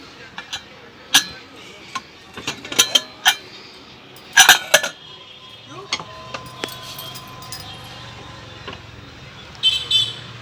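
A pressure cooker lid is opened after cooking dal for a tomato varan, giving a scattering of sharp metallic clicks and clatters, some close and loud, spread across the stretch over low kitchen background noise.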